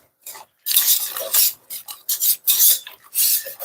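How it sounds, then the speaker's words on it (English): A whisk scrapes and rasps briskly against a bowl as a mixture is stirred, in quick, close, uneven strokes with brief pauses between them. "I'm going to use a whisk."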